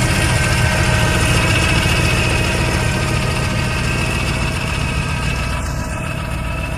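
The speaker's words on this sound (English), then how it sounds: "Definitely hear the gear drive." A 1941 Ford coupe engine idles steadily and loudly up close, with a constant mechanical whine from the gear drive riding over the low rumble and no talking.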